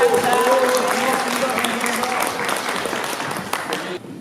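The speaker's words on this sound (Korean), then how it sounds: "감사하다고 박수 한번 쳐주셨습니다." Outdoor group applause thanking Salvation Army staff during a walking tour of an old Seoul building, a steady patter of clapping with talk over it that fades and stops near the end.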